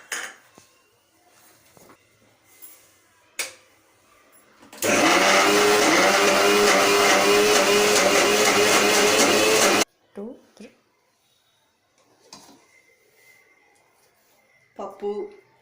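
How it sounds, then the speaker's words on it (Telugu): An electric grinder running on lentils and jaggery for puran poli, a loud dense whirring burst of about five seconds, framed by quieter kitchen clatter and someone speaking before and after. "పప్పు బెల్లం పాకం ఇలా మనం గ్రైండ్ చేసి ఇంత మెత్తగా అయ్యే వరకు అయిన తర్వాత దించుకోవాలి"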